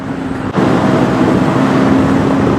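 A KTM 160 Duke motorcycle's engine drones under steady riding with a dense wash of wind, a sudden thump and rise in level early on, then a constant loud hum.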